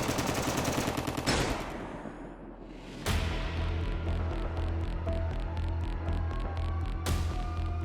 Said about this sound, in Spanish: El sonido de los disparos generó pánico inmediato entre los presentes